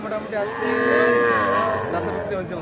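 Young calves at a cattle market mooing close by, one long drawn-out bellow that rises and falls, followed by a shorter call over a low hum of market background.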